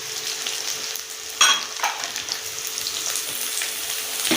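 Cumin seeds hit hot oil for a Tamil mint chutney, setting off a steady crackling sizzle with a brief louder burst as they go in, close and alone without talk.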